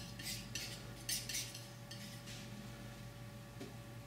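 A palette knife rubs oil paint lightly onto canvas, giving soft, close scraping strokes in short bursts over a steady background hum.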